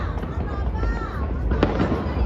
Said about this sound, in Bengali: দূরে দূরে দেখছি ফটফট করে ফাটছে